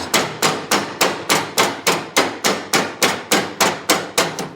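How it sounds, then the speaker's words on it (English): A rubber hammer taps a lawn mower axle in fourteen evenly spaced, sharp knocks, close and loud, with no talking. "That's why I like using a rubber hammer."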